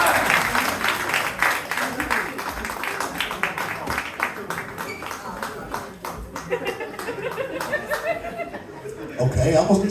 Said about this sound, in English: Big round of applause for these people up here on stage.